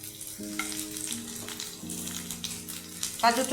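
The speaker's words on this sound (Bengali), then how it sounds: "পেঁয়াজটা একটু ভাজা হোক" Chopped onion sizzles in hot oil in a pan, with cashews to follow, giving a steady close frying hiss over a faint tonal hum and a brief brighter crackle near the end.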